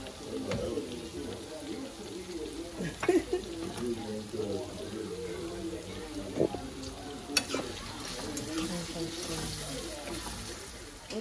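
Ackee and saltfish cook down in a pan, giving a soft continuous sizzle with occasional stirring scrapes and clinks; a voice talks over it.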